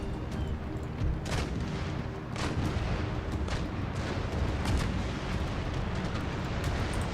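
Ship cannons fire chain shot in the naval battle game Empire Total War, giving repeated deep booms and rumbling blasts at irregular intervals over a continuous, heavy battle roar.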